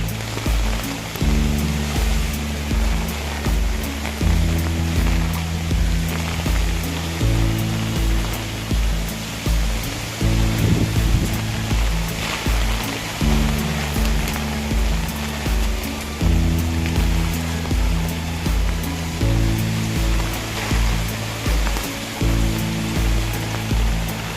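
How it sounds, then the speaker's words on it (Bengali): A constant broad hiss of heavy rain and wind from Cyclone Remal pours down on a rooftop garden, with a looping low rhythmic thumping pattern repeating underneath. "প্রচন্ড বৃষ্টি বাতাস বাতাসে দাঁড়ায় থাকা যায় না"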